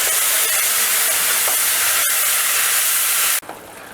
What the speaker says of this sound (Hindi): अब इन सबको 2 मिनट के करीब भून लेते हैं जब तक जो प्याज है हमारी अच्छे से भुन जाएगी।